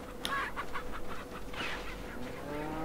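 Chickens cluck in the Resident Evil 4 video game, a few short squawks and clucks close by over a steady low game background hum, with no talking.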